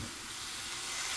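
Ground turkey frying in a pan for a spicy taco tot hotdish, a steady soft sizzle and hiss that holds even and fairly quiet throughout, with no voices over it.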